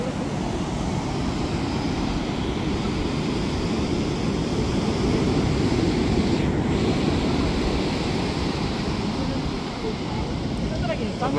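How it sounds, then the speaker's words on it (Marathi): Rough, churning sea surf crashes continuously and loudly near the shore at a coastal temple site, the broad roar steady throughout with wind buffeting the microphone. "आता समुद्र बघा किती खवळलेला आहे."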